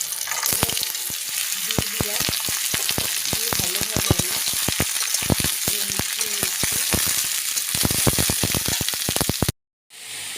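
Loud crackling sizzle of food frying in hot oil, with sharp pops and occasional stirring scrapes, continuous until a sudden brief silence near the end.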